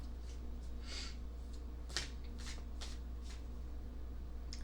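A Dreams of Gaia tarot deck is shuffled by hand, a run of soft riffling card flicks and taps close by, fairly quiet against a low background hum, with no talking.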